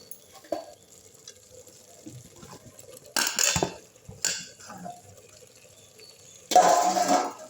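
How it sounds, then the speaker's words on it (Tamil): Potato pieces tumble into a pan of chicken being sautéed, giving two short bursts of clattering and sizzling, then quiet low frying in between; no one talks. "இப்போ இதில் உருளைக்கிழங்கு எடுத்து போட்டுடலாம்."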